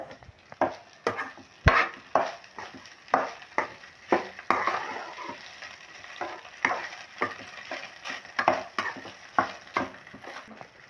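Leftover rice poha is stirred around a pan with a spatula, making a steady run of rhythmic scraping strokes over a soft sizzle, close up and with no talking.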